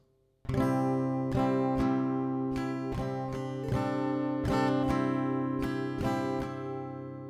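Slow acoustic guitar chords ring out one strum at a time, about a dozen even strokes that blend into a sustained, resonant wash.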